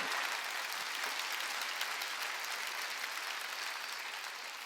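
Worshippers at a Wednesday evening church service break into loud, sustained applause, a thick wash of many hands clapping at once that holds steady before easing slightly at the end.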